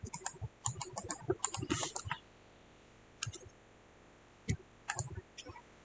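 Computer keyboard keys clack in quick bursts as shortcuts are pressed while routing a PCB layout in KiCad, with a dense flurry of taps followed by sparse single and double presses, close and quiet.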